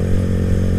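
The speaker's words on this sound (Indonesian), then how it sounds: "suara mesin terdengar lebih berisik" Suzuki Satria F150 motorcycle engine running on thin Shell Advance oil, a brief, close, rattly mechanical buzz with a steady throb and no talk.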